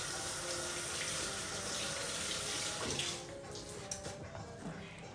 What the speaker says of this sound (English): I'm going to wash my hands real quick.